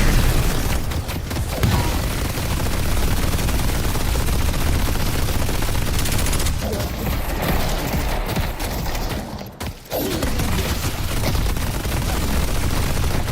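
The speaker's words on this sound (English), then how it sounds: "Putting down a turret. Fire!" Rapid automatic gunfire from a deployed turret in the video game Deadlock, a dense, continuous barrage of shots with heavy booms throughout, briefly dropping out for a moment before resuming.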